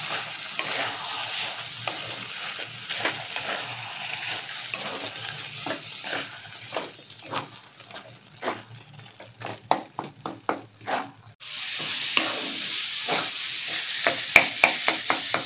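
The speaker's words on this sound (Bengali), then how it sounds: "অর্ধেকটা দিয়ে ভালো করে নেড়ে দিচ্ছি।" Mango paste and paneer being stirred in a frying pan for Indian sweets, with rhythmic scraping strokes over a light sizzle that grow sharper and quicker before a louder, steady frying hiss takes over near the end.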